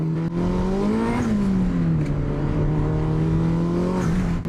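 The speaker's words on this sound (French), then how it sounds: "j'ai décidé de ramener la voiture à la maison et de faire quelques accélérations" A powerful 400-horsepower Honda Civic Turbo engine drones and revs close by, pitch rising and dipping as it accelerates, loud and continuous with no talking.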